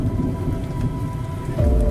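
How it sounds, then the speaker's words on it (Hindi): Light rain falls in a steady patter, with a low, rumbling undertone beneath it and a deeper swell toward the end. "जैसे ही बारिश की हल्की फुहारें गिरी"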